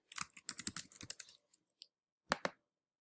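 Quick bursts of typing on a computer keyboard while entering accounting journal entries, close, crisp key clicks in rapid clusters, then a pause and two final taps, with no voices.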